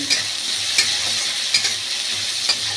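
Raisins being stirred into spiced chana dal in a pan: a loud, even frying hiss with crisp spatula scrapes recurring about every second, close up and with no talk.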